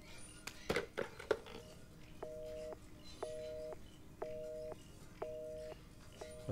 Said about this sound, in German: Telefon, funktioniert das wohl?